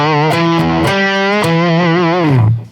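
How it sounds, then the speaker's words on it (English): A distorted electric guitar through a vintage Fuzz Face-style fuzz pedal plays a short melodic phrase of sustained notes, thick fuzz, loud and close, ending with a lower note that cuts off. "Some of the other pedals I use a lot are the fuzz ones. This is like a vintage fuzz face style."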